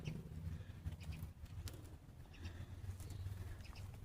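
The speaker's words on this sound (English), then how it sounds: "think some birds are starting to gather." Birds gather outdoors; pigeon-like cooing and scattered calls rise and fall close by over low ambient rumble, with soft rustling.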